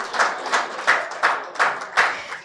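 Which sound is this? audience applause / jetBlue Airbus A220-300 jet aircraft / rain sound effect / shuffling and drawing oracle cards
audience applause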